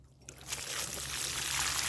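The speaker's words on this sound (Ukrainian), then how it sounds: "Коли розкопали, добре його пролити водою." Water poured onto the dug-out roots of a grapevine in a garden, starting as a soft trickle and quickly building into a steady splashing pour that runs on without pause.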